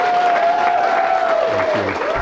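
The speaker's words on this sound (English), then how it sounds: "Give her a big round of applause." Applause from an audience as a woman candidate for the Senate is welcomed up at a reception, a steady dense wash across the clip with a tonal whine or feedback over it and brief low thumps near the end.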